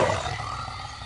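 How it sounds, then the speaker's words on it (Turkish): A tiger gives a single loud, sustained roar close by, with a deep rumbling base that runs unbroken for about a second. "Kaplanlar dünyadaki en büyük kedilerdir."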